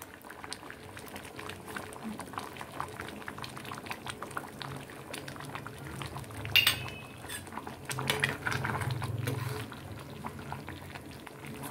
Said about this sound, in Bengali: 1 চামচ চিনি দিয়ে আবার এটাকে সুন্দর করে একটু নাড়িয়ে নেব